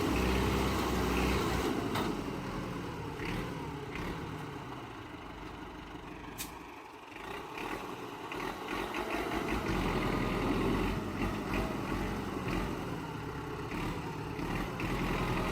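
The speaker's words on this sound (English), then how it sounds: "This machine combines durability and power, featuring a robust diesel engine and a reinforced chassis to withstand heavy loads and harsh working conditions." A forestry skidder tractor with a robust diesel engine and winch works among logs, its engine rumbling steadily and loudly throughout with a brief dip midway and occasional clanks and sharp metallic hits.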